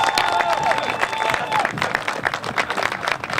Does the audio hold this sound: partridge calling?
no